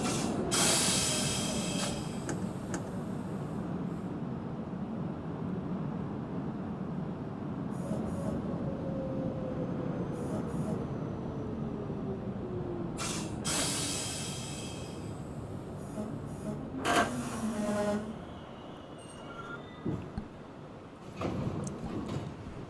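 A Brooklyn Bridge-bound New York subway 6 train runs between Astor Place and Bleecker Street, giving a loud, steady rumble and hiss with sharp metallic squeals and bursts near the end, and no talking.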